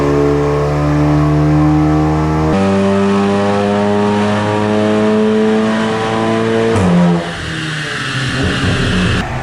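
A modified Volkswagen Golf R with a stage 1 map and stage 2 parts launches and accelerates hard, its engine roaring loud and rising through two quick gear changes before easing off near the end.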